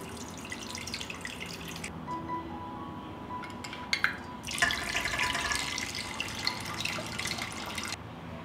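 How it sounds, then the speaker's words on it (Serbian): Water poured from a glass jar into a pot, several short trickles and clinks of glass, then a sustained splashing pour that runs for a few seconds before stopping. "vodu iz tegle presipam u šerpu."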